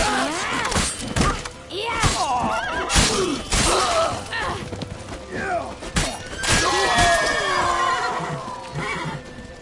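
A horse neighs and whinnies repeatedly in The Witcher 3, loud and close, with shouting voices and thumps mixed in during a tense chase scene.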